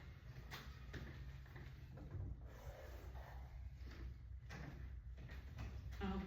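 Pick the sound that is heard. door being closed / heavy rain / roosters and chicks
door being closed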